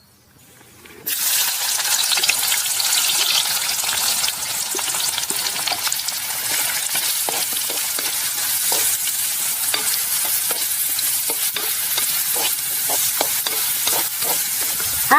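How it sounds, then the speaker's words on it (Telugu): Onions hit hot oil already holding cardamom and cinnamon for a spicy Telangana-style mutton curry: a sudden loud sizzle bursts in after a second of quiet and holds steady, crackling with spatter and utensil scrapes. "ఇవన్నీ కాగిన నూనెలో వేసుకుందాం ఇప్పుడు ఉల్లిగడ్డలు వేసుకుందాం"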